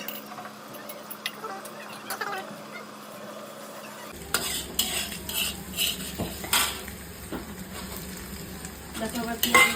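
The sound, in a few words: frying onion with egg and potato for noodles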